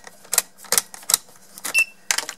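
A key turns back and forth in a Mercedes W203 ignition switch set loose on a table, giving a close series of sharp mechanical clicks and clacks in uneven bursts.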